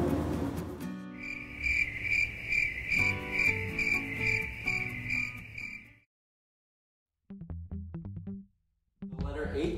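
A steady, rapid grasshopper-like chirping trills over a bed of music, then stops; brief musical bits follow.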